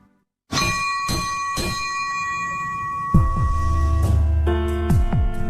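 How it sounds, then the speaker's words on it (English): Bell rung three times to start an NBA playoff basketball game, three clear, ringing strikes about half a second apart that sustain, then fading under a loud low arena hum with more metallic rings layered in. "As we ring the bell to start tonight's game"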